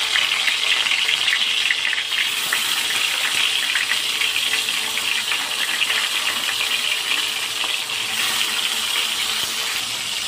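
Pumpkin-leaf patori parcels fry in hot oil, a dense continuous sizzling hiss that stays loud and even throughout at close range, with no voices.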